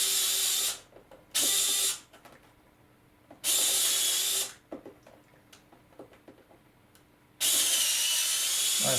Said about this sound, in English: Case of undoing the screws